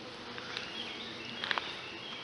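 A soft, steady buzzing of honeybees at a hive hums throughout, with a few faint higher blips rising briefly above the drone.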